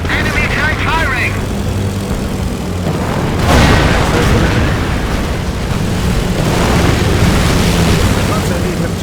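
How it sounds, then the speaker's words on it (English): A heavy boom from an enemy tank firing in the strategy game Company of Heroes, landing as a deep blast amid a rumbling battlefield with droning engines, while a voice speaks over the action. "Enemy tank firing!"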